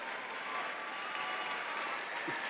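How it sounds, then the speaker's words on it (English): A graduating class and commencement crowd at a high school ceremony break into a round of applause, a dense, even wash of many hands clapping, steady and loud across the whole stretch with faint voices mixed in. "stand up and give all of the folks who supported you a round of applause"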